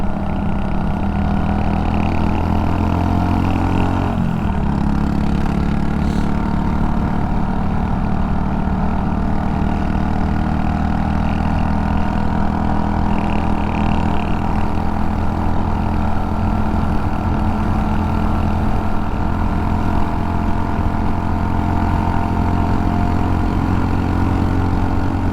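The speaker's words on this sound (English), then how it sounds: "Minus these loud monkeys coming through on scooters" Scooter engines drone steadily at close range on a ride through a quiet small town during a long-distance scooter rally, a constant loud hum with a slight shift in pitch partway through.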